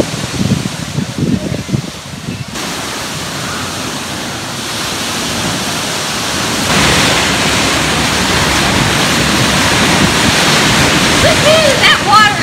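Continuous roar of ocean waves washing in beneath Jennette's Pier, loud and close, swelling louder midway, with a faint squeal near the end.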